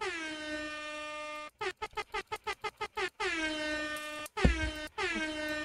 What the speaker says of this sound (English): Just an air horn.